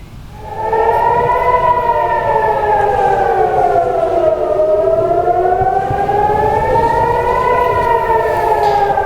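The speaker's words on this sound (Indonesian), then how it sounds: "suara sirine peringatan serangan udara terdengar di Bandara Ben Gurion, Israel" Air raid warning siren at Ben Gurion Airport, Israel, wailing loudly and continuously, its pitch slowly falling and rising again in a long sweep with no voices.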